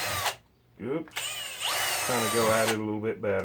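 A power drill bores a series of holes in a plastic 5-gallon bucket for hydroponic gardening, running in steady high-pitched bursts with short pauses, while someone talks over it.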